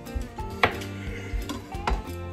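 A kitchen knife cuts a mix of red and white potatoes into quarters on a cutting board, giving a run of close, irregular chopping taps and knocks with some clattering, without talk.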